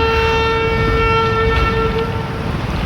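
A train departing a station at Mayiladuthurai rumbles loudly and continuously nearby, with a sustained horn-like tone ringing over the heavy engine noise.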